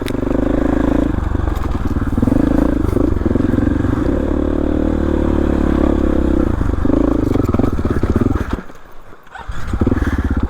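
A dirt bike engine on a remote canyon trail in the western Rocky Mountains, running loud and rough for several seconds before dropping out briefly as the engine stalls, then firing back up.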